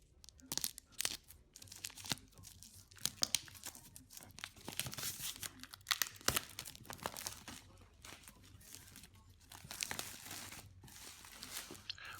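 Plastic wrap is torn and crinkled off a Zombicide Black Plague board game box, with close, quiet bursts of tearing and crumpling that come in irregular clusters.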